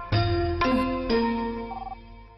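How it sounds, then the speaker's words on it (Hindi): A telephone rings with three bright electronic tones in quick succession, each sustaining and decaying, loud and close with no talking over it. "तुम्हारे लिए फोन है"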